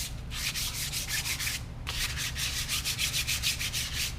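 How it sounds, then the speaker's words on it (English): Wet-dry sandpaper, 800 grit, worked by hand over a motorcycle wheel in rapid back-and-forth rubbing strokes, close and steady, with one short pause partway through. "I'm just using an 800 grit wet dry sandpaper"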